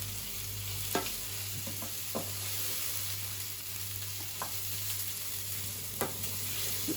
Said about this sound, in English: I'm softening off the onions